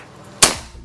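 A single sharp crack from a Ghost Warrior 360cc PCP air rifle firing, loud and close, with a brief fading tail after the abrupt report.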